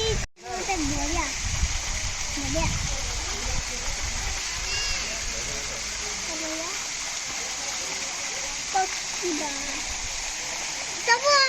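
Gundicha Ghagi waterfall pouring steadily, a constant broadband rush of falling water close by, with children and adults talking and calling out over it throughout.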